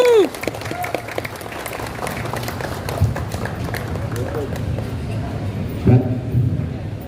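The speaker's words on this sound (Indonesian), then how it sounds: "Sambut Pak Wakil Kota yang tepuk tangan." A crowd at a Friday protest rally outside Bogor city hall applauds to welcome the deputy mayor, a dense wash of clapping mixed with voices and shouts from the gathering throughout.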